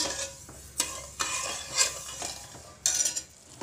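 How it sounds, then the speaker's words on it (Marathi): Sugar syrup for gulab jamun boiling in a pan, heard as soft bubbling and sizzling broken by several sharp stirring and utensil scrapes against the pan, close and fairly quiet, with no talking. "आता पाक छान आपल्याला उकळून घ्यायचा आहे."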